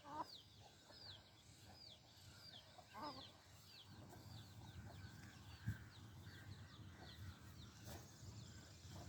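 A hen clucks softly and repeatedly while small chicks peep nearby, all quiet and somewhat distant.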